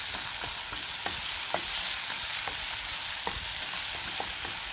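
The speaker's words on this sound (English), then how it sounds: "we should not forget to turn the onions around" Onions slowly caramelizing in a frying pan, a constant close sizzle broken by regular scraping strokes of a utensil stirring and turning them, roughly one stroke per half second.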